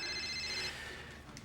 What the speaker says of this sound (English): Your cell phone. It's been ringing and ringing.